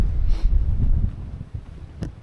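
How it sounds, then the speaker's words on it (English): Strong wind gusts buffet the microphone with a steady low roar in the hills outside Adelaide, rising and falling over a couple of seconds with no voices. "oh my god, it's so windy"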